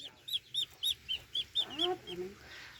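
Repeated calls from a flying duck breed, about eight short, fairly loud honking notes in a steady rhythm, followed by a lower voice or call trailing off at the end.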